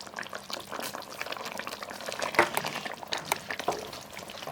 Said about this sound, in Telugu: ఈ బెల్లము, చింతపండు వేసాం కదండి, దీన్ని మరి కాసేపు ఉడికించుకుందాం